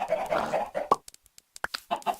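Chicken clucking in the Minecraft video game, a few short clucks with broken gaps between them, close and moderately loud, with no talk over them.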